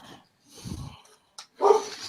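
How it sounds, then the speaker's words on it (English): An indoor dog barks during a home drawing session, giving a few short, fairly close bursts separated by pauses, with a breathy snort between them and no talking. "My dog is barking."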